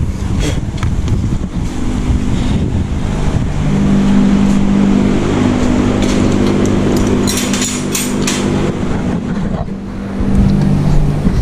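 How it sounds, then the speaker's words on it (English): A small Honda engine runs steadily at close range, a continuous loud drone with a faint hum and some wind buffeting against the microphone, with no talking. "These little Hondas are pretty good engines."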